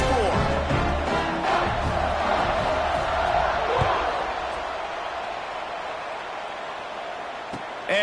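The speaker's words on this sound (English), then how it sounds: "this crowd is buzzing after that last score" A stadium crowd in the College Football 25 video game roars loudly after a touchdown, then settles into a softer steady murmur.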